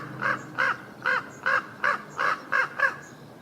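Crow cawing near trees, eight loud evenly spaced harsh caws in a steady rhythm, close and clear with no talk.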